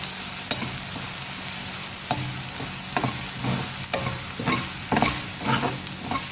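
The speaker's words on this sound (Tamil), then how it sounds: "ரவை நல்லா நெய்யில் வறுபடணும் பச்சையாக இருக்கக்கூடாது ரவை நல்லா வறுபட்டுறணும்" Semolina roasting in ghee in a pan, stirred for a Chettinad ukkarai sweet, with a soft sizzle under repeated scraping strokes of the spoon against the pan, irregular and close.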